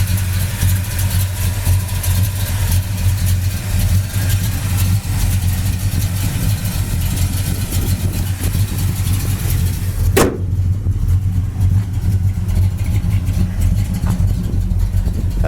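A red 1968 Pontiac Le Mans GTO convertible's V8 idles in a steady, continuous rumble close by, with a single sharp click partway through and no clear revving.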